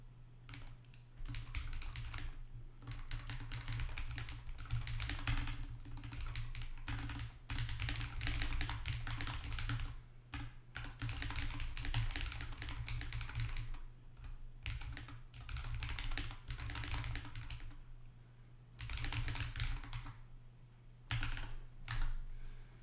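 Fast, continuous typing on a computer keyboard at a day-trading desk, dense clattering keystrokes running almost nonstop with brief pauses, close and steady over a low background hum.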